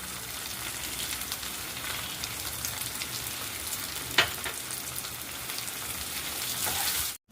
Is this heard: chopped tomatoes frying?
yes